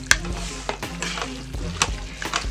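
Ground turkey chili seasoned with chili powder gets stirred in a pot, a few scraping strokes and spoon knocks over a low steady sizzle, close and fairly loud, with no voices.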